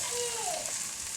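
Garlic and ginger sizzling in a pan for a chicken rogan josh, a soft, steady frying hiss with a faint tonal squeak from the cookware.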